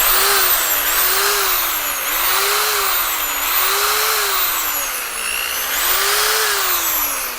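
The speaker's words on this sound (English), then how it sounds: "we're gonna operate the drill." An electric drill runs steadily on power from an Enelong solar power station's inverter, giving a loud, continuous motor whine whose pitch rises and falls in slow waves as it speeds up and slows down, with no talk over it.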